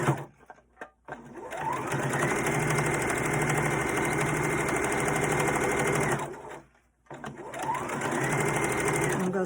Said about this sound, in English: then I sew all the way around the edges.